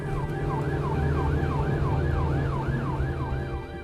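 An Essex ambulance siren wails continuously in steady rising-and-falling cycles as the crew responds to an emergency 999 call. It is loud and close, over the hum of the moving vehicle, with no talking.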